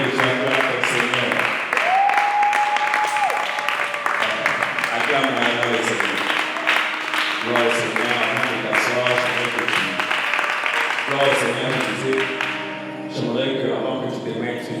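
Church congregation applauding and cheering during a worship service, a sustained loud wash of clapping and crowd noise with voices and music mixed in throughout.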